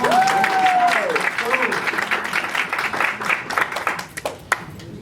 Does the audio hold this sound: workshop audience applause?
yes